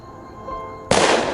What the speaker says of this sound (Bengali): একটা বন্দুকের গুলির শব্দ হলো